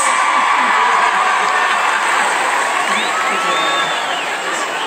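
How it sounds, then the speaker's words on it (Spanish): A crowd at a hand-cream product launch cheers and whoops loudly and continuously, sending off the models, with some laughter and shouting mixed in. "Un aplauso para despedir los muchachos aquí con los muchachos"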